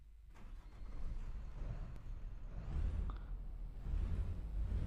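An Ashok Leyland Indian private bus engine idles in Euro Truck Simulator 2, a low, steady rumble that swells slightly toward the end, with faint mechanical hiss over it.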